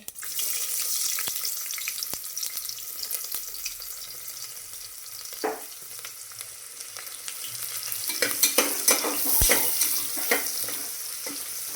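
Mustard seeds and cumin sizzle and crackle steadily in hot oil for khichdi, with a few stirring scrapes and light clinks over the bright, continuous frying hiss.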